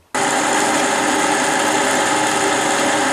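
A power drill with a 12 mm bit starts abruptly and runs at a steady, loud, high whine while drilling a VW T3 front suspension part, continuing alone without talk.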